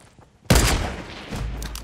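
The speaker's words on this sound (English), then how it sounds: "Someone's shooting from the left." In a Fortnite Battle Royale match, a burst of gunfire breaks in sharply after a quiet moment and keeps crackling and rumbling to the end.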